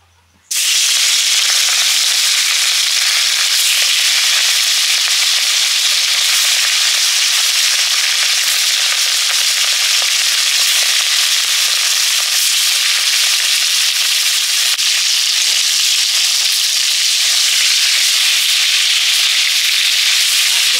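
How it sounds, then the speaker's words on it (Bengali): Hilsa fish sizzle in hot oil in a pan, a loud, close and steady frying hiss that starts abruptly and continues without a break. "মাছগুলো ভেজে নেব।"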